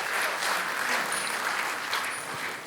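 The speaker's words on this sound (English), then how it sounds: "they deserve another round of applause" Audience applause after a dance performance at a formal luxury real estate event, a steady wash of clapping from many hands with no voices over it.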